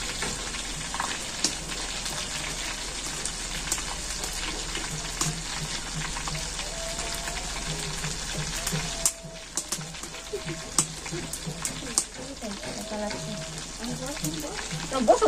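Snacks made with boiled potato and egg fry in hot oil, giving a continuous crackling sizzle with scattered pops and bubbling, fairly faint and alone throughout.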